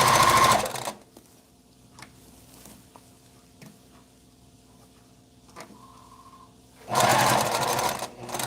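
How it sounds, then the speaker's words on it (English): A sewing machine stitches together a shirt sleeve in two loud, steady bursts of whirring, one at the start and one at the end, separated by quiet handling of fabric with a few faint clicks. "I stitch it together, and one sleeve is done."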